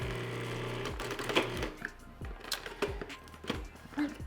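A food processor pulses flour, baking powder and salt in short, repeated thumping bursts at a fairly even rhythm, quiet and close.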